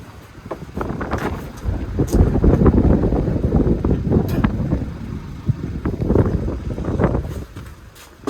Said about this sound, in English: when I step out here, listen to how windy it is